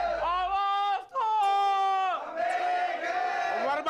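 A crowd of protesters chanting slogans together, loud sustained unison shouts rising and falling, a short pause, then another round of massed cries.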